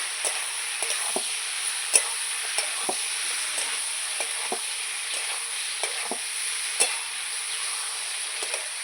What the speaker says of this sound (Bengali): এবার ভালো করে সবজি আর মশলা একসঙ্গে কষাবো